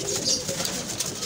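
Pigeons kept by a pigeon fancier coo softly and continuously at close range, a low rolling murmur with no voices.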